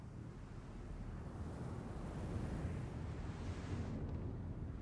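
Light wind blowing on the planet Daymar in Star Citizen, a faint, steady broadband rush with slight swells and no speech.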